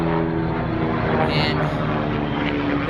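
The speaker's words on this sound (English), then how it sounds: "and there goes the helicopter." A helicopter flying overhead gives a loud, continuous engine and rotor drone that fills the whole stretch without a break.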